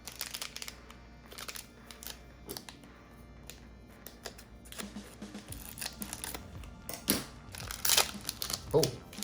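A Chrono Core trading card booster pack tears open with crinkly foil ripping and scissor-like snips, bursts of crackling at intervals under a low hum, with a voice speaking at moments.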